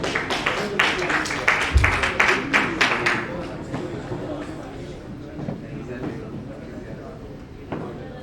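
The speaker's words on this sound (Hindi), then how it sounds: "शर्माइए नहीं, तालियां बजा दीजिए अच्छे से।" An audience at a cricket player auction in India breaks into brief applause, with a cluster of claps near the start that fades into a murmuring crowd and a voice over the hall.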